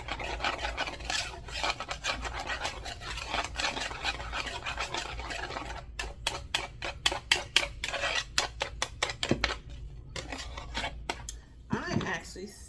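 Wire whisk scraping rapidly around a bowl while whipping a sriracha-based bang bang sauce, dense rasping strokes that turn into crisp rhythmic clicks partway through, close and fairly quiet with a voice talking at times.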